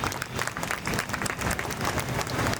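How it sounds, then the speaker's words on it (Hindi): Audience applause at a World Kidney Day event in a hospital honoring kidney donors, a fairly close, dense burst of clapping that stays busy and sustained throughout. "ताली बजा दें प्लीज़ आप सब लोग।"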